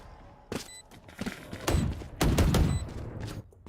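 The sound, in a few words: gunshots in a shooter video game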